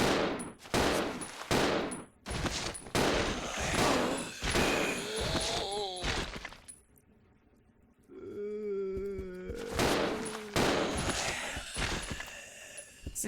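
Rapid gunfire bursts in the video game Resident Evil 0: sharp repeated shots in clusters, a short quiet gap, then door and mechanical sounds and more shooting.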